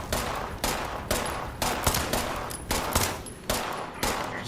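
Repeated gunfire from the video game Fallout 76, with loud broadband bursts arriving roughly every half second in a steady rhythm over about four seconds, no talking.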